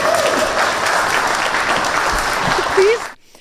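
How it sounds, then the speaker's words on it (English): A crowd claps steadily for about three seconds, with a voice briefly audible over the applause before it cuts off. "I will solicit a round of applause when I just announced that"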